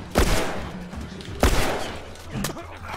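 Two sharp gunshots about a second apart in The Last of Us Remastered, each punching out with a brief low boom and decaying tail, followed by a softer thud, with no talk over them.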